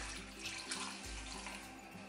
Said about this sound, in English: And you're pretty much going to cover the meat with water.